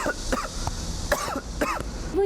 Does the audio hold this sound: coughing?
yes